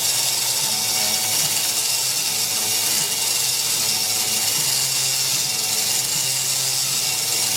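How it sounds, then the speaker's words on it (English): A Tormach CNC machine honing an engine cylinder, giving a continuous loud whirring, hissing grind that holds steady throughout with no pauses and no talking. "You can see I'm honing this cylinder."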